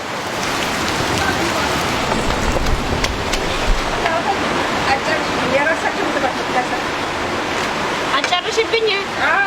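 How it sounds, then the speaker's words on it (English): Heavy torrential rain pours down outdoors in Ethiopia's Dire Dawa and Harar region in a dense, continuous roar, loud and close, with faint scattered sounds mixed into the steady wash. "it is just downpouring. The rain is coming down."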